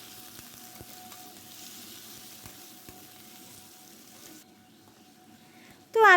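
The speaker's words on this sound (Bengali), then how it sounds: "আলুগুলো কেটে রেখেছিলাম, সেগুলো কিন্তু একসাথে এর মধ্যে ভেজে নেব" Potatoes and onion fry in a pan with a faint, even sizzle and occasional soft ticks. The sizzle drops away near the end, then a sudden loud burst cuts in.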